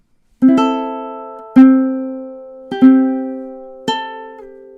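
A ukulele picks the fourth measure of The Parting Glass, a Celtic tune, with four separate plucked notes that ring and decay cleanly, close and clear with no voices.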